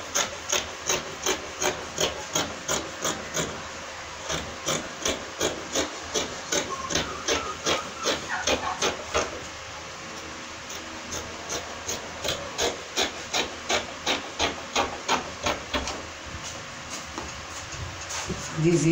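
Scissors snip steadily through fabric laid out for a pleated short gown, a close, regular series of crisp cuts in a long rhythmic run that pauses briefly midway before carrying on.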